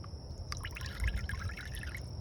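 Coolant is poured into a Freightliner Columbia truck's reservoir in a short, quiet trickle, a soft splashing gurgle lasting a couple of seconds against a faint steady hum.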